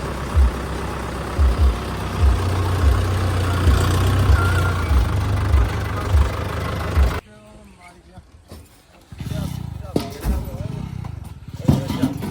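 A heavy diesel tractor engine idles with a steady low rumble and rhythmic thumping, then cuts off abruptly, leaving quiet outdoor sounds and some speech.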